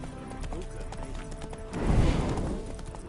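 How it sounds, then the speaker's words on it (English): A spooked horse in The Witcher 3 clatters its hooves and gives a neigh, with steady clip-clop building to a louder surge in the middle, layered over game ambience and faint voices. "Spooking my horse."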